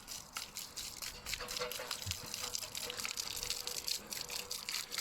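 A cheap pound-shop pan is rinsed under a steady stream of running water at a campsite, with continuous splashing and gushing close by and occasional clinks of the pan against the flow.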